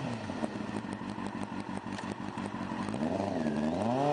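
A used 2007 Kawasaki ZZR600 middleweight sport motorcycle runs steadily at close range, its engine humming with a fast, even pulse and rising slightly in pitch near the end, with no talk over it.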